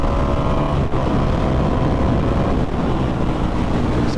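A motorcycle ridden on a rural country road in the evening accelerates hard, its engine a loud, steady roar mixed with heavy wind buffeting throughout, with no talk.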